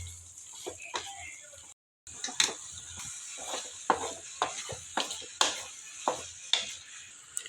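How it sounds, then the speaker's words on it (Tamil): A spoon stirs masala in a pan over a low flame, giving regular scraping and clinking strokes over a faint, steady sizzle, close by. There is one brief dropout near the start. "அந்த மசாலா எல்லாமே அதில் நல்லா கிரைண்ட் ஆகிற வரைக்கும் கலக்கி விட்டுக்கோங்க"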